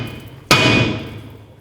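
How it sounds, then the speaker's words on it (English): A hammer strikes a seized rear axle hub between the wheel studs on a 2007 Chevy Silverado Classic, one sharp, loud metallic blow ringing out and decaying over about a second, with no talk. "And then you want to hammer it here in between the studs."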